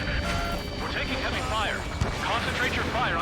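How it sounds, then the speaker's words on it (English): Heavy artillery and gunfire rumble through a combat scene in the Ace Combat 7 video game, a steady dense low roar with one sharp crack, while voices talk over it throughout. "We're taking heavy fire."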